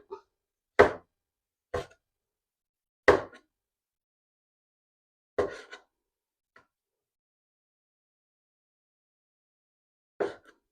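Sharp knife chops through tomatoes on a cutting board, six isolated strikes spaced irregularly with silence between, close and crisp.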